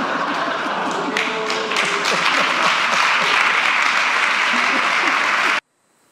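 Applause from seated political supporters, a dense wash of clapping with scattered louder claps and faint voices mixed in, running steadily and then cutting off abruptly near the end.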